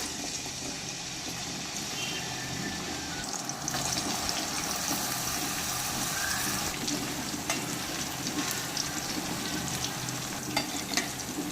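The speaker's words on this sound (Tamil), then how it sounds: "இப்போ எண்ணெய் சூடானதும் நான் ஒரு வாழைக்காயை அப்படியே குட்டி குட்டியா நறுக்கி எடுத்து வச்சிருக்கேன். இது கூட ஆட் பண்ணி நல்லா பொரிச்சு எடுத்துக்கலாம்" Small pieces of raw banana deep-fry in hot oil in a pan, producing a continuous dense bubbling sizzle at a close, even level with occasional crackles and a brief clatter of stirring.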